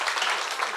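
A brief burst of clapping from an audience at a school gathering, steady and dense, heard close for under a second.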